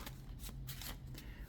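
Playing cards being shuffled close up, a few quick riffling bursts in a quiet room.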